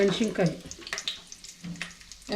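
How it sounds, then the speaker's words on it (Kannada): Slit green chilies frying in oil in a home kitchen, a close crackling sizzle with stirring scrapes, heard under someone talking. "ಅದನ್ನು ಚೆನ್ನಾಗಿ ಎಣ್ಣೆಯಲ್ಲಿ ಫ್ರೈ ಮಾಡಬೇಕು."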